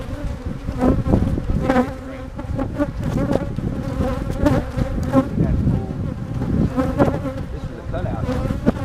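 Dense buzzing of many honey bees up close, a continuous humming drone with individual bees rising and fading in the swarm.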